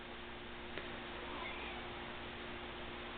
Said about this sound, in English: Grandstanding cat.